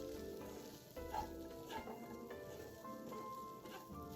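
Glutinous rice stir-fried in a pan, a quiet continuous sizzle with soft scraping and stirring strokes, a few louder pushes of the spatula, no voices.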